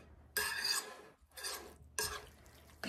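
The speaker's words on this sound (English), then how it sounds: "We're just gonna scrape all that down." A spatula scrapes down mashed pumpkin around a bowl in three close, distinct rasping strokes separated by brief pauses, quiet and alone.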